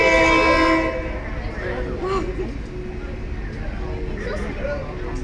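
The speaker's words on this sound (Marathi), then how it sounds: "super fast train" A train horn sounds loudly at the start, then a train rolls slowly through the Maeklong railway market with rumbling and clattering wagons amid crowd noise and people talking.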